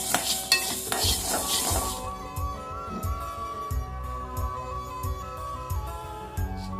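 Sambar powder spices are dry-roasted and stirred in a pan: a couple of seconds of rustling, scraping stirring, then faint pan sounds largely covered by rhythmic background music.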